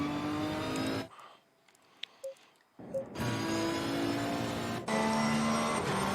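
Nissan GT3 race car in Assetto Corsa Competizione at Zandvoort, a loud, steady engine drone with rich harmonics that cuts out briefly and returns, with gear shifts and a faint tire squeal.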